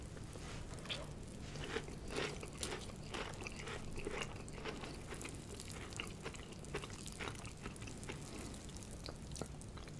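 Kellogg's Strawberry Rice Krispies cereal is eaten close to the mic, with soft, irregular crunching and wet chewing repeating throughout at a quiet level.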